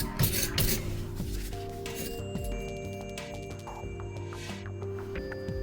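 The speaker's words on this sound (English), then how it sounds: "I'm also using this tube cleaning brush to clean, as much as I can at least, the insides of these. Just kind of scrub up" A tube cleaning brush scrubs inside metal parts of a wall-mounted Glacier Bay faucet, producing close rubbing and rasping strokes mixed with small clinks and metallic rings, with no speech.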